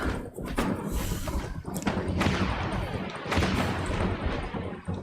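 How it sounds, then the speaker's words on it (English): Booming explosions and heavy thuds from a giant-spaceship battle in the free-to-play game Dreadnought, loud and continuous, with several big bursts rolling over a dense layer of weapon fire. "the explosions are nice though"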